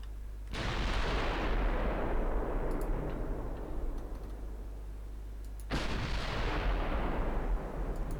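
Warship main guns fire in Ultimate Admiral Dreadnoughts, two heavy booming salvos a few seconds apart, each with a long rumbling decay over a constant low hum.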